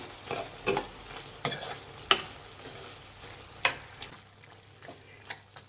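Capsicum kurma being stirred in a pan, with soft scraping strokes and brief clinks of the spoon against the metal over a steady low sizzle, several distinct stirs spaced a second or so apart, close and fairly quiet.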